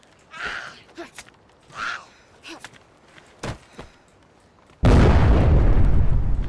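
A gas station exploding in a video game: after a few scattered knocks and breaths, a sudden loud blast erupts and keeps roaring as a sustained wall of noise.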